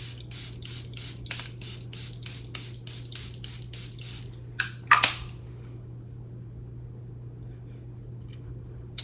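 A quick run of about a dozen short, rhythmic bursts of makeup setting spray, then a brief rustle and quiet hum as the spraying stops.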